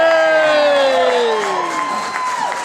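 A dinner audience at a St. Louis Rock & Roll Marathon event cheers and whoops loudly, with rising and falling shouted voices and some clapping that tapers off over a few seconds.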